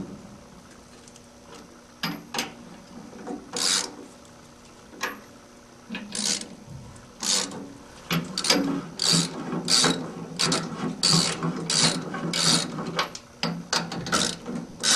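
A ratchet torques bolts in a cross pattern to press a trunnion bearing housing out of the frame of an 18-60 lb washer, with bursts of clicking pawl strokes that start sparse, then come quick and steady, close and fairly loud.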